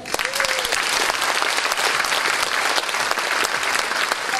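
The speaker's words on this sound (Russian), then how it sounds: "мы сейчас будем с вами аплодировать сами себе" Audience applause fills a jubilee evening in a concert hall, a dense, steady wash of clapping from a large crowd that holds loud and even for the whole stretch, with no talk over it.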